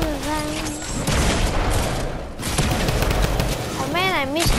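Gunfire in the Fortnite video game: dense bursts of automatic shots crackle loudly throughout, with warbling in-game tones and a player's voice talking over the fire.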